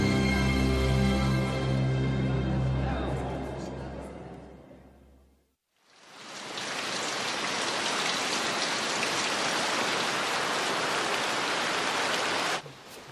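Steady rain pours in a dense, even hiss for several seconds after a brief fade, following a stretch of music in a film scene.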